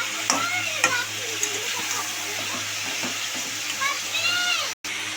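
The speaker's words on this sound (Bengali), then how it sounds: "মাটনটা আমি ভালো করে ভেজে নেব" Mutton frying in oil and being stirred in a pan, a steady sizzle under scattered spoon scrapes and clinks, with a brief dropout near the end.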